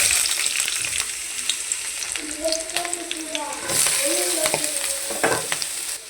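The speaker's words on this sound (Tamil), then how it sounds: "இப்போ நான் காயெல்லாம் ஆட் பண்ணிக்க போகிறேன்." Chopped vegetables frying and being stirred in a hot pan for paneer fried rice, a steady sizzle with scraping stir strokes throughout, while a voice speaks intermittently over the cooking.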